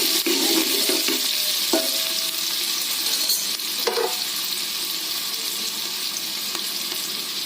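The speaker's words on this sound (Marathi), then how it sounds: "कांदा थोडासा परतून घ्यायचं" Chopped onion sautés in oil with cumin seeds in a pan over low gas, a steady close sizzle with occasional stirring scrapes, with no talking.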